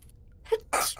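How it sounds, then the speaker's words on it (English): A single close sneeze, a brief intake followed by a sharp burst of breath, in a quiet indoor room. "Bless you."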